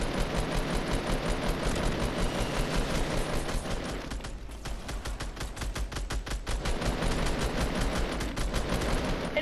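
Rapid automatic gunfire in a Fortnite battle royale match, long dense bursts of shots with a brief pause midway, loud and continuous.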